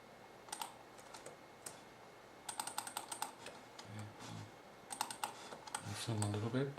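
Quiet computer keyboard typing with scattered clicks and short bursts of keypresses, including spacebar taps, set against a low room hum, with a voice murmuring briefly near the end.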